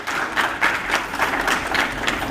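Audience applause honoring a martyr's family at a Sikh commemorative gathering for the Saragarhi battle, steady crowd clapping rising and falling in waves for a couple of seconds, fairly loud and close.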